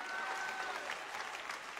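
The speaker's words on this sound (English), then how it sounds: "Clap your hands for." A congregation claps hands steadily at a deliverance church service in London, a dense, continuous wash of applause filling the whole stretch at moderate level with no pauses.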